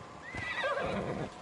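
A horse whinnies in Assassin's Creed: Odyssey, a single rising-then-falling neigh lasting about a second, close and clear, with soft hoof clip-clop underneath and no talking.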